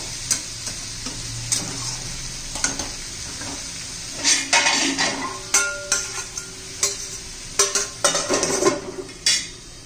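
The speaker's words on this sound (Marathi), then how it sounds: "हे पहा एकदा झाकण काढून हलवून घेऊया" A lid lifted off a pot of bitter gourd (karela) curry, then a spoon stirring through the frying vegetables: soft sizzling underneath and a series of close scraping, clinking strokes against the pot, growing more frequent toward the end.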